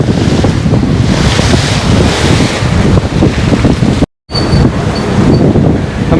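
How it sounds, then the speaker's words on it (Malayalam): Water waves splash against the rocky shore at Hampi, a loud, continuous rush and slosh with heavy wind buffeting the microphone, briefly cut out near the end before resuming. "ഓളം അടിക്കുന്നത് കണ്ട, എൻ്റെ മേത്തൊക്കെ വെള്ളം വീഴുന്നുണ്ട് ഇപ്പം"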